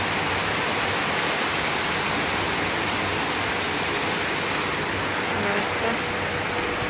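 Heavy rain pours steadily during Hurricane Irma in western Puerto Rico, a loud, dense hiss that holds unbroken throughout with little wind.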